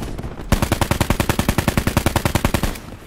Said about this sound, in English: That was real bad shooting.